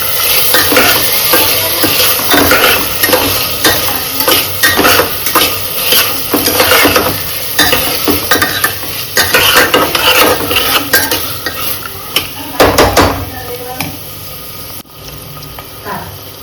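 Chopped vegetables for a veg pulao are stirred in a cooking pot, with steady scraping and clinking of a spoon against metal, a faint sizzle underneath, and a few louder knocks near the end, close and fairly loud with no talking.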